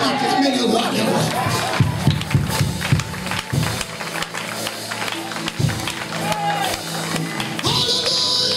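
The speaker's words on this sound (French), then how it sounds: "Acclamez le roi des rois." A church congregation at a Sunday worship service acclaims and cheers, a loud, busy crowd noise with scattered claps and taps, and voices over it.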